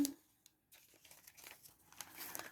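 Quiet crinkling and tearing of the outer plastic packaging on craft dies from a hobby store haul, close and soft with irregular rustles and rips.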